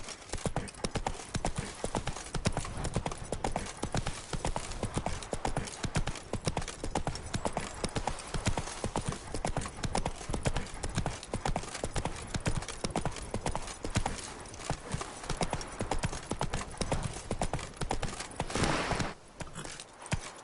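Roach, the horse in The Witcher 3, trots with a rapid, steady clip-clop of hooves that carries on almost without a break, briefly fading near the end before resuming.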